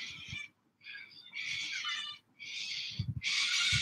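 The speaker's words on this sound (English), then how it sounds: "So right now there's some crows, I think." Crows calling outside a window in the early morning: four or five loud, harsh bursts of cawing in quick succession, separated by short gaps, with low thumps and rumbles underneath.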